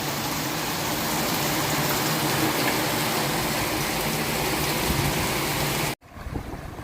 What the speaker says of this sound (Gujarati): થઈ ગયો મુસળધાર ભાઈ ગામમાં આવ્યા વરસાદ